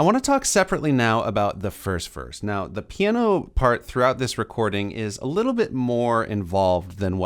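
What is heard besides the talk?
No everyday noise stands out behind the speech.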